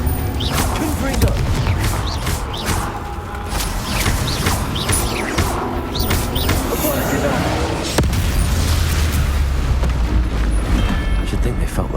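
Blasting-spell explosions from Hogwarts Legacy, booming impacts and crackling debris mixed with clanking mechanisms, repeated over a steady roar, with a voice speaking over the action.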